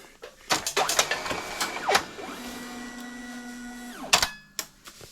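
Samsung CLX-6220FX laser printer warming up and starting: repeated mechanical clunks and clicks, rising and falling motor whines, and a long steady tonal hum, close and fairly loud, no talking.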